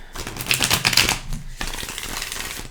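Quick flurries of tarot cards being shuffled, a crisp riffling burst followed by a shorter second round of papery flicking, close by.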